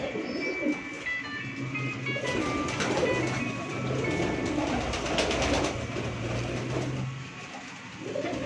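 A Teddy pigeon with light pink eyes on a rooftop gives low, repeated cooing under a steady background rumble, with a few higher bird chirps mixed in.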